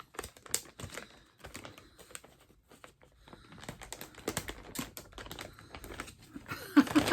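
Crinkly plastic bag rustles and crackles in irregular bursts as someone struggles to open it, close and fairly quiet, growing busier toward the end.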